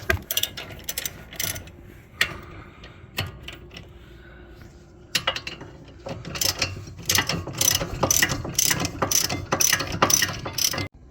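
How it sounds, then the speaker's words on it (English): Hand ratchet undoing caliper carrier bolts on a 2014 VW Sportwagon during a wheel bearing job, bursts of rapid clicking pawl strokes close up, sparse at first and then quick and continuous, with small metallic handling noises between. "So that bolt and this bolt gotta come off."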